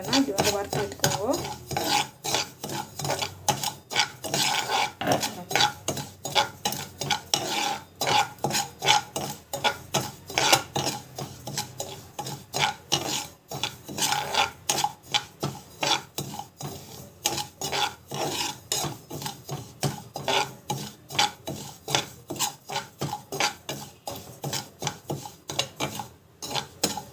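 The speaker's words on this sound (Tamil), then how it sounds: "நல்லா வறுத்து விட்டுக்கணும்." Kichadi ingredients are stirred and dry-roasted in a pan, giving a continuous scraping rasp of a spoon against metal with rhythmic strokes and a soft rattle of grains, close and steady with no talk.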